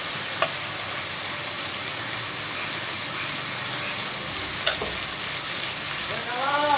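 Diced papaya frying and being stirred in a pan, with a steady broad sizzle throughout and a few sharp scrapes of the spoon against the metal.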